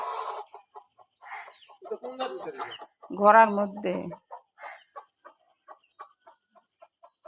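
Chickens on a farm on a rainy day cluck and squawk close by, with one louder burst in the middle, while a person speaks briefly over them.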